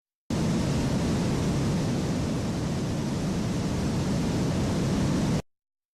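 A steady, dense roar of rushing water like a huge tsunami wave breaking, broadband and constant for about five seconds before cutting off abruptly.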